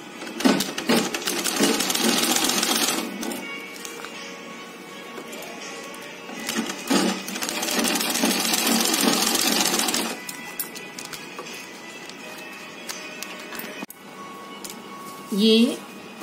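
Sewing machine stitching a waterproof fabric strip in a curve onto a homemade face shield, running in two long steady bursts with a short pause between and a brief final run, close and loud, with a voice speaking faintly.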